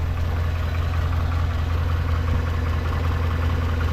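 Engine of a 2011 Chevrolet Silverado pickup idling steadily and close by, a constant low rumble with no voices.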